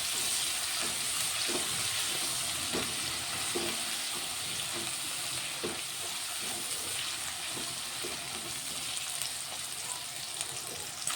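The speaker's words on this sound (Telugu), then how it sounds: "కలిస్తున్నాం." Tomato and turmeric mixture with ginger-garlic paste being stirred in a frying pan, a steady close sizzle with soft scraping stirs every second or so, no voices.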